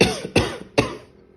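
A man coughs three times in quick succession, harsh and close, each burst fading into a raspy tail, with no speech around it.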